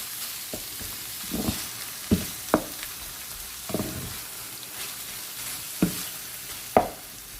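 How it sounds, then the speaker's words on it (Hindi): Minced meat with fenugreek (qeema methi) is stirred in a sizzling pan, with a steady frying hiss under irregular scrapes and taps of the spoon, close up and alone. "इसकी अच्छी तरह से हम इसे मिलाएंगे"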